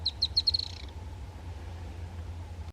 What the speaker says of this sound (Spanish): Es conocido por algunos con el nombre onomatopéyico de tiritití, debido a su vocalización.